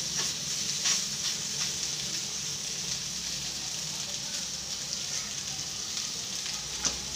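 Fish sizzles and fries in a small amount of oil in a pan, a steady close hiss running throughout with faint occasional pops and crackles, no voices.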